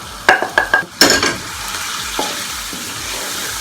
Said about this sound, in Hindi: बहुत अच्छा सा फ्राई हो गया हमारा चिकन